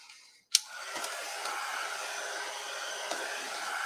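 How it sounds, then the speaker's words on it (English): Hair dryer blowing steadily to dry a wet sled finish, a continuous close whoosh of airflow starting after a sharp click, with a faint tap midway and no talk. "You can use a hair dryer or a specialty heat gun if you have one."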